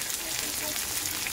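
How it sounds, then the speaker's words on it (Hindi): Crispy thread chicken sticks sizzle in hot oil over a high flame during a second fry, a brief, steady, hissing crackle heard up close. "क्रिस्पी चिकन को क्रिस्पी बनाने के लिए एक बार और फ्राई कर लेंगे हम हाई फ्लेम पे"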